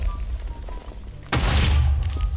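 A bomb detonates in Minecraft with a sudden heavy boom, followed by a loud, rumbling blast that sustains to the end.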